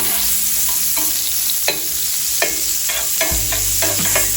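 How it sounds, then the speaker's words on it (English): Smart Balance spread melting and sizzling in a skillet, a continuous hot fry hiss broken by several sharp clicks and scrapes from stirring. "Now I'm putting some Smart Balance in the skillet."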